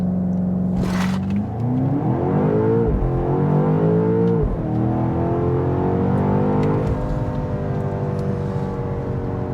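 A 2025 BMW X5 M Competition launches hard from 0 to 60, its engine roaring loud and close as the pitch climbs through gear changes.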